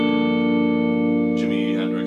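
An electric guitar sustains a ninth-interval chord tone in a minor blues context, played with effects; the note rings steadily and loud, with a second picked note entering near the end.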